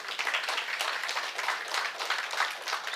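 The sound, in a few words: audience applause at radio society meeting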